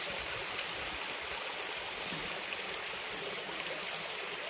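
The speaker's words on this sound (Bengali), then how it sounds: "কি সুন্দর ছোট্ট একটা ঝর্ণা বয়ে যাচ্ছে।" A small waterfall stream runs through the jungle near Sittong, a dense, constant rush of splashing water heard up close with no voices.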